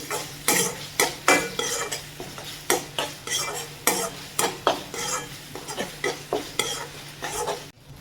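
Ginger garlic paste fries in a pan for a mushroom curry, with steady sizzling under rhythmic, close spoon scrapes and taps against the pan repeating about twice a second.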